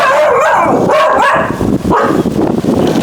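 A seven-year-old dog barks and yips loudly and close by in several quick overlapping bursts, with whimpering tones between the barks.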